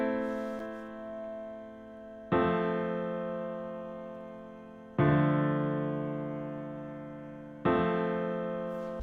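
A basic chord progression in octaves plays on a synth-like instrument in music production software, four sustained chords struck roughly every two and a half seconds, each decaying slowly, clear and alone.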